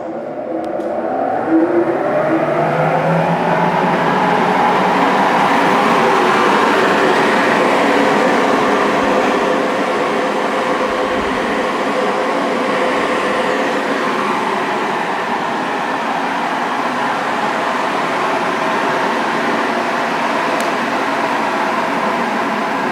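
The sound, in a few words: vacuum table blower running on Butfering wide belt sander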